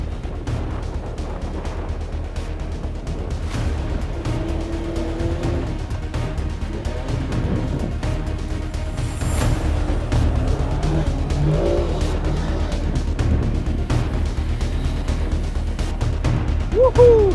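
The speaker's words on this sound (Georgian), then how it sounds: "ეხლა კი მეგობრებო, ერთ მთელ წრეს გავაკეთებ ბაგით" A CF Moto buggy roars around a dirt track on a full lap, its engine loud and continuous with rising revs and tire skids, a few voices faintly underneath.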